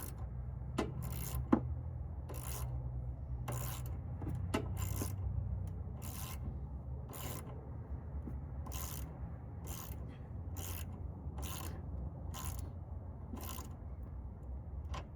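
Hand-tightening a new bolt on a car battery terminal, heard as a steady series of short metallic ratcheting clicks repeating roughly every half second over a low mechanical rumble, close and fairly quiet with no talking.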